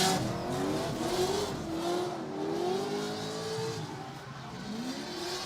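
Drift race cars, a Miata among them, scream with revving engines that rise and fall in wavering pitch while tires hiss and squeal, a continuous, fairly close roar with no speech.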